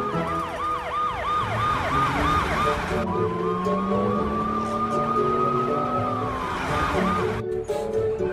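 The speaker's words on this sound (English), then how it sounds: "Let the ambulance drive through." An ambulance siren close by, first a rapid yelping whoop, then switching to a long rising and falling wail over road noise.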